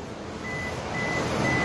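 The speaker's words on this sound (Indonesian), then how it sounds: "Tuh ada beepnya ya, kalau kuncinya nggak di dalam mobil." Warning beep on a 2019 Suzuki Ertiga Sport automatic when the key is not inside the car: short, thin electronic beeps repeating at intervals, fairly faint over a steady background hum.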